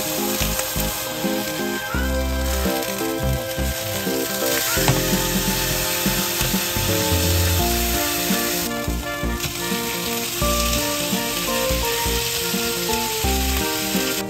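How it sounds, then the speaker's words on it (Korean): Steady sizzling of bulgogi beef frying in oil in a hot pan under parchment paper, continuous and close, with occasional scraping and clinks of a utensil. "식용유를 후라이팬에 두르고 종이를 붙인 상태로 바로 뒤집어서 올려줍니다."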